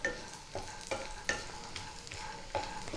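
Pea lentil dumplings (bori) frying in a little oil in a kadhai over low flame, a quiet sizzle with several soft rhythmic scrapes of stirring, close and faint.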